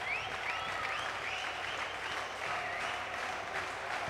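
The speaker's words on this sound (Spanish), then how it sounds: "Baja el aplauso de la torcida verde y blanca." A large basketball crowd claps steadily, the applause sustained and fairly close, with scattered whistles rising above it.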